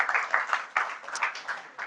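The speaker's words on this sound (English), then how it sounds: "A round of applause for him as he makes that presentation." A small audience gives a short burst of light applause for a presenter at a conference session, scattered clapping that fades quickly.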